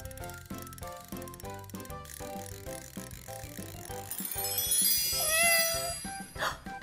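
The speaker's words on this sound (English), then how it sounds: "Did you hear that? That was most definitely a cat" A cartoon cat meows as a sound effect in a children's educational nursery-rhyme show, a rising whiny cry heard near the end over a busy, bouncy music bed with clicking mechanical effects.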